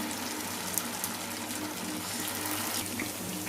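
Chicken kebab pieces sizzle in hot oil with a dense, steady hiss and fine crackle throughout, close and fairly quiet, with no talking.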